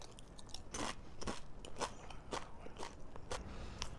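Quiet, steady crunching of Miss Vickie's potato chips being chewed close to the microphone, in regular crisp bursts.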